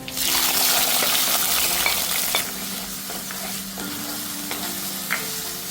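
Chopped tomato hits hot oil in a pan for prawn curry, giving a loud sustained sizzle broken by scraping stirs and a few sharp clinks of the spoon, with no one speaking.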